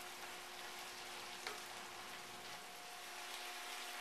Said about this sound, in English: I'll stir this in, and I'm going to let this cook for about a minute.